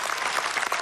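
Studio audience applause at a Dancing Stars dance show, a dense steady patter of clapping filling the whole short stretch without pause.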